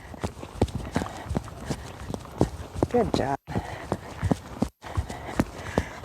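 Clip-clop of a ridden horse's hooves during a schooling session, steady rhythmic footfalls close by, with a rider speaking briefly over them.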